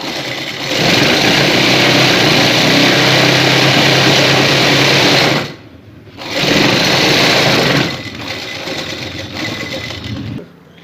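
A sewing machine runs fast and loud, stitching a decorative design along a shalwar hem, its steady whirring chatter stopping briefly, restarting, then easing to a lighter, slower run before cutting off.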